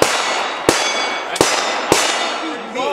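A pump shotgun firing three sharp, loud blasts about two-thirds of a second apart, each cracking out and ringing briefly, with a faint squeak of handling after the last shot.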